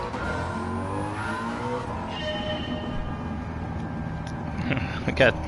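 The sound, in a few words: car engine revving in Gran Turismo 7 video game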